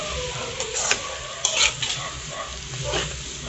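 A spoon stirs chopped parsley through a dish in a hot pan, making soft scraping and shuffling sounds over a constant low sizzle, with a few brighter clinks against the pan.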